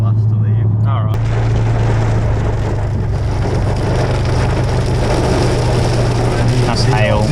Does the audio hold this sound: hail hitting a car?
yes